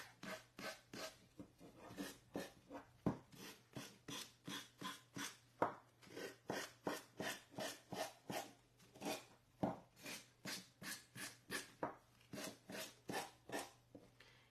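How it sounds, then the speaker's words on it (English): Rhythmic rasping strokes of a sanding block rubbing back and forth along the back edges of a canvas, dozens of quick, even passes close by, with no voices. "I'm going to come in with my sanding block, and I'm just going to sand down"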